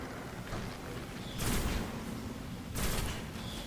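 Gunfire from the video game Destiny, two loud broadband bursts about a second apart, each a short rapid burst, over a steady background of game ambience with no talk.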